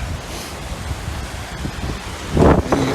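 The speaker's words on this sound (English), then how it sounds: "It's windy." Outdoor wind on an Arran mountain ridge buffeting the microphone in gusts, with a louder rushing burst near the end and no talking.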